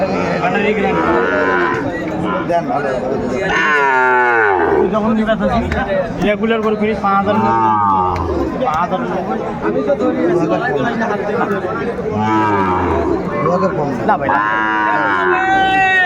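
Sahiwal bull calves moo repeatedly with rising, drawn-out calls, close by at a cattle market in Chittagong, Bangladesh, over constant background chatter and talk.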